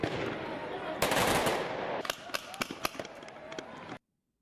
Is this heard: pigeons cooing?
no